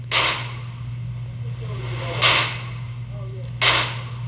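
Three sharp pistol shots from a Canik SFX Rival, spaced a couple of seconds apart and loud and close, ring out over a steady low hum with faint background noise between them.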